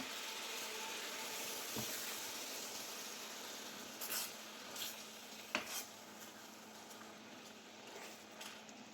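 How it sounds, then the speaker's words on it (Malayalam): Soft, quiet stirring of thick coconut milk in a pan with a gentle simmering hiss and a few faint utensil taps against the metal. "ഒഴിച്ച് കൊടുത്തൊന്ന് ഇളക്കി കൊടുക്കാം"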